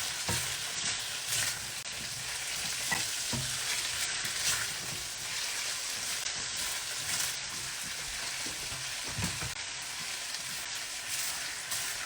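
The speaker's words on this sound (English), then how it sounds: "And you're just frying it out, frying it out." Steady sizzling of vegetables frying in a pan, a constant hiss with occasional stirring scrapes and clatters, close up and moderately loud.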